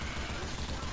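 A mounted machine gun in Left 4 Dead 2 firing a dense, continuous rattle of rapid shots, loud and close, filling the whole short moment.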